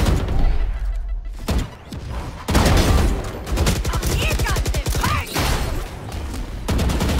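Dense, loud bursts of automatic gunfire in the video game Valorant, with thuds and rattling shots layered over one another for several seconds and faint game effects underneath.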